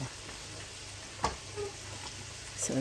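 Carrots and other vegetables land in a hot pan for a noodle dish, giving a soft steady sizzle with a few clinks and stirring sounds, close and quiet.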